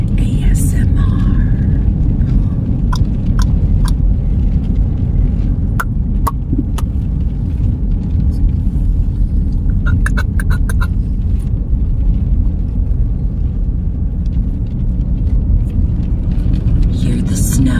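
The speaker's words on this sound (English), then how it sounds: "Snow, driving in the snow" A car drives home through a snowstorm, its low, steady road and engine rumble filling the cabin, with occasional faint clicks and taps on top of the constant drone.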